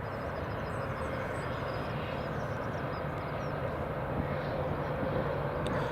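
A Buzz Boeing 737 MAX on final approach at Edinburgh Airport gives a steady, distant broadband engine roar that holds evenly throughout, with no voices over it.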